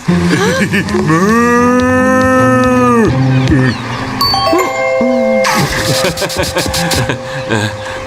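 A cartoon cow gives a long, loud moo in the middle of an animated scene, with music and other sound effects playing around it and brief voices before and after.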